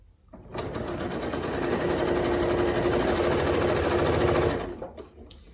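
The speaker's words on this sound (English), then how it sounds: "So you will sew directly on that line that you drew." Sewing machine stitches quilt squares along a drawn diagonal line, a steady close mechanical whir running for about four seconds, then stopping.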